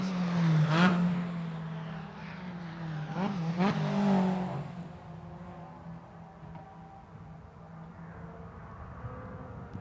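Mazda MX-5 NC and ND race cars in qualifying at Lime Rock Park: a loud engine drone with shifting pitch passes close, then fades into a distant hum.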